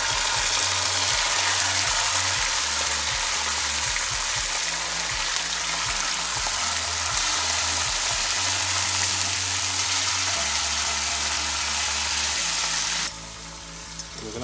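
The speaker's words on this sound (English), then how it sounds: "Just stir that around to fry it up." Chilli beef pasta sauce with passata frying in a pan on a Kamado Joe, with a steady loud sizzle and bubbling and repeated stirring scrapes, close up, and no talking.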